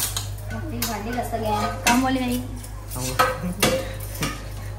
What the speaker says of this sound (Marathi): मम्मीचं भांडी घासते इथे